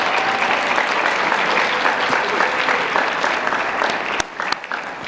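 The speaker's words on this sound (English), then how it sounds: "could we please have a round of applause for all the families that have supported you through this?" Families in a high school National Honor Society ceremony audience receive warm applause, dense steady clapping that fades and breaks into a few scattered claps near the end.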